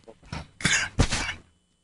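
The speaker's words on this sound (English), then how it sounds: "I'm trying not to cough here in your ear out there." A person coughs and clears their throat in a few harsh, close bursts, ending abruptly in silence.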